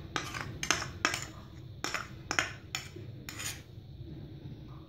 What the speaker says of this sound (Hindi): बंद गोभी में मेयोनीज वगैरह ऐड करके इसे मिक्स कर लेते हैं